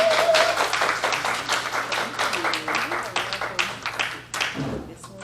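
Applause from an audience at a domestic abuse awareness event, a dense burst of clapping lasting several seconds with voices and chatter mixed in, tapering off near the end.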